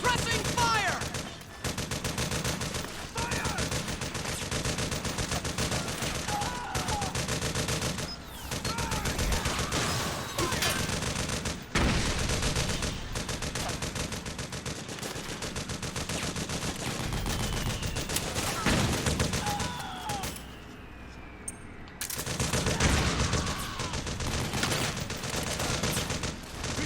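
Sustained gunfire from Metal Gear Solid 4 on PS3, dense overlapping bursts of automatic fire and single shots rattle almost continuously, loud and close, with shouted voices breaking in now and then.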